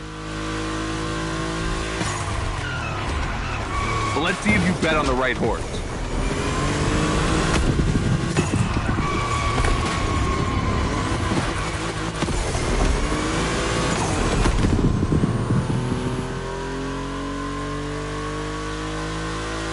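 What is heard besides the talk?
Volkswagen race cars driving on track in The Crew Motorfest video game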